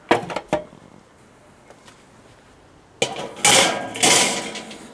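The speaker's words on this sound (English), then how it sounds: "And then I'm just gonna toss our grill grates on." Metal grill grates clank onto a Weber kettle grill set up for smoking baby back ribs, with a few sharp rattling strikes first, then louder scraping clangs as they settle into place.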